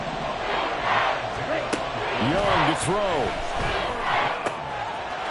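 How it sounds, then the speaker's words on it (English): Stadium crowd in the Madden 24 football video game roars steadily throughout, a dense wash of cheering and racket sitting under continuous play-by-play commentary. "this crowd doing their best to make a lot of racket"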